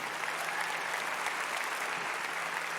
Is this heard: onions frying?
no